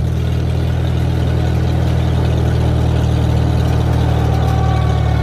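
A tractor engine runs steadily at a low, loud idle-like drone while an implement is lowered on a field being prepared for soybean planting, continuous and close with no talk.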